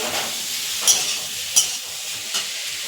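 Soybean curry sizzling steadily in a pan as water is added, a constant frying hiss broken by a few brief stirring scrapes.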